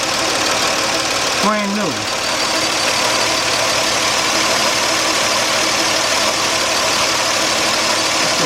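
A 1998 Nissan Maxima with a 3.0 engine runs with a knocking fault, its steady, loud mechanical drone filling the whole stretch while a voice speaks one brief word partway through.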